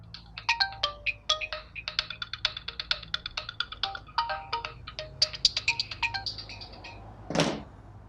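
A tinkling, jingly phone ringtone plays a rapid melodic pattern for several seconds, then stops, followed by a short thump near the end.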